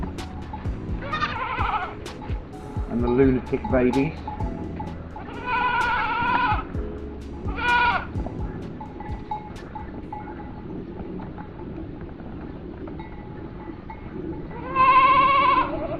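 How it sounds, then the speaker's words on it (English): Goats bleat several times at irregular intervals in a back garden, some calls close and loud, others softer, over a steady outdoor background with a brief spoken phrase. "Just watching the goats in the back garden"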